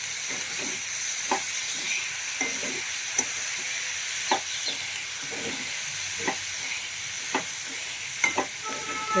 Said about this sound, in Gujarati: લીલી ધાણા મિક્સ કરી લેશું બરાબર